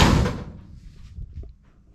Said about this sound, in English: forgot that door closes really easy.